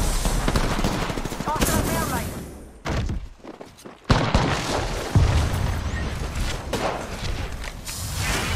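Video game gunfire in close, loud bursts of rapid shots mixed with heavy thuds, with a brief lull midway and voices talking over the action.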